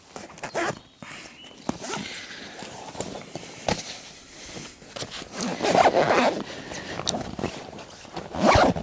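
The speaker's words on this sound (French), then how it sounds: "Un petit coup de fermeture éclair de chaque côté." A zipper is pulled along each side of a fabric sheath cover, several quick zipping strokes with rustling and handling noises between them, close and fairly loud.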